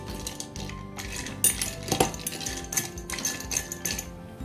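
A watermelon drink with a lemon slice being stirred in a glass, producing quick, bright clinks and taps of a spoon against glass in uneven bursts, close and fairly clear with no talking.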